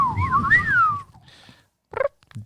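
Human voice imitating the droid R2-D2 from Star Wars, a warbling, rising-and-falling whistle followed by short chirpy beeps and bloops after a pause.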